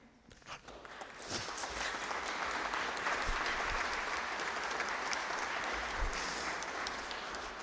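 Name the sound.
audience applause at Fernando Botero's wake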